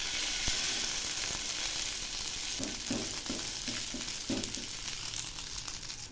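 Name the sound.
stuffed eggplants frying in hot oil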